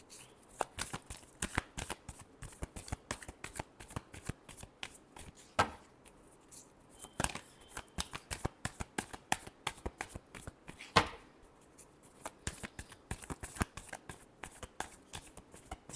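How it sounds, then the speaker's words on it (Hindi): Tarot cards are shuffled by hand at close range in a rapid series of crisp, papery riffles and slaps, irregular bursts with brief pauses between them and no talking. "Last shuffle."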